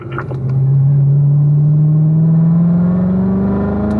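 Race car accelerating hard down a track straightaway, a loud close engine note climbing steadily in pitch as it gains speed, with a brief rattle at the start.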